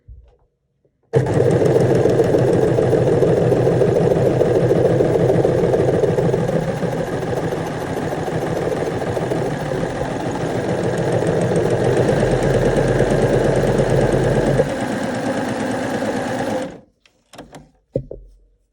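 A combination overlocker/coverstitch machine runs a five-thread stitch with a fast, steady mechanical whir that holds for about fifteen seconds before stopping, close and loud, with no talking.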